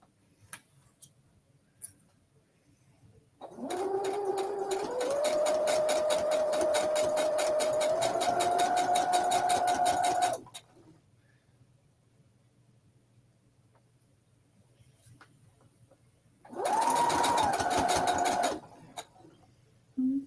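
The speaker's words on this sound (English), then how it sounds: "So let's get this sewed on." A sewing machine stitches a Christmas ornament in two runs, a long steady whirring burst of about seven seconds and then a shorter burst, with a quiet room between and no talk.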